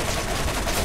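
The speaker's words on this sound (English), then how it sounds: "Oh man, this rifle." Rifle gunfire in the Borderlands video game, a loud, dense burst of rapid shots that fills the whole short moment with no gaps.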